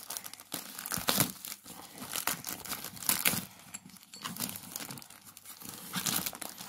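A package torn open during an unboxing, with loud close crinkling and ripping of plastic wrapping in irregular bursts of crumpling and tearing, no talking over it.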